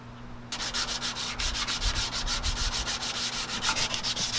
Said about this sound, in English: you still sanding?